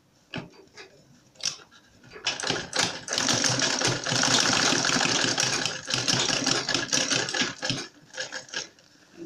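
A sewing machine runs in bursts while stitching a diaper bag pocket, a rapid mechanical rattle that starts and stops before settling into a long steady run, then trailing into short stitches.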